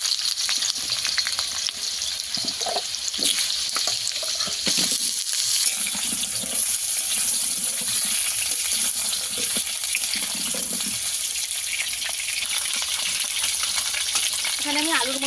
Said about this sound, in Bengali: প্রথমে আমি আলুগুলো ভালো করে ভেজে নেব।